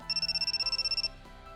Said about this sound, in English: In that instant, the phone begins to ring.